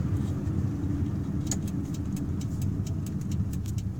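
A 1984 Toyota Camry on a test drive, heard from inside as a steady, fairly loud low engine and road drone that holds even throughout, with faint higher ticks above it.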